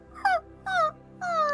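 A human voice imitates a wounded wolf-dog whimpering, making three short, high, falling whines in quick succession.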